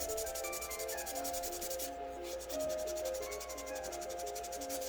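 Hobby knife blade scraping along the plastic of an AMT Opel GT model car kit, a steady, close rasping rub repeated in quick strokes with a brief pause midway.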